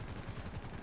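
Gunfire fills a GTA roleplay game in a dense, continuous rattling burst, loud and unbroken from start to finish, like automatic fire.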